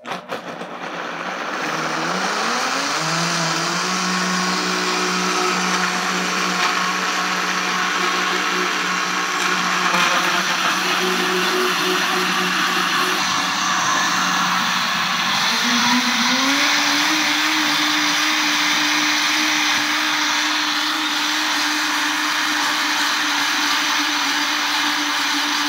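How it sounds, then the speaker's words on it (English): A blender runs continuously on a vegan sauce as milk is added, its motor whine climbing in pitch at the start and shifting again partway through, loud and close throughout. "I'm gonna add the milk as it blends to the consistency that I want."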